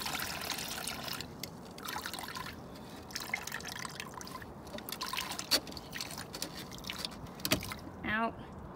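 Water trickling and dripping from washed wet alpaca fiber into a strainer, faint and close with irregular splashes and drips and a louder splash near the end.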